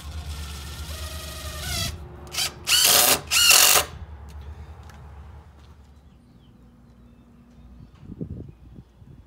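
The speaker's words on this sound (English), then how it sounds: "Want to keep them as tight as possible and then run a stainless steel screw in." A power drill drives stainless steel screws through treated 2x6 bunk boards into a boat trailer cradle, with whirring motor runs and several loud, short bursts of grinding as the screws bite, then quieter clatter afterward.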